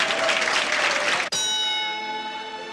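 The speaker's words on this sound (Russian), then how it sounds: "Аплодисменты великому Джейку Ламотта," A crowd applauds Jake LaMotta in a trailer for Scorsese's Raging Bull: loud, dense clapping for about a second, then a sharp cut to a sustained ringing bell-like tone that slowly fades.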